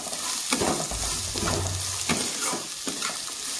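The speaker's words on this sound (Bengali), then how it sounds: "গাজরটাকে দিয়ে আমি একটু কিছুক্ষণ ভেজে নেব।" Chopped carrots frying in a pan for a vegetarian breakfast dish while being stirred. A continuous close sizzle carries a few spaced scraping stirs.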